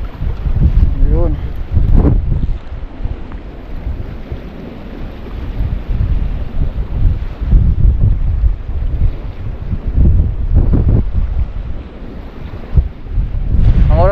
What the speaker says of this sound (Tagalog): Lalo na pong lumakas yung hangin.